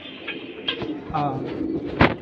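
A blue-tailed pigeon in a loft coos softly up close in short repeated notes, with a person speaking over it and a sharp click near the end.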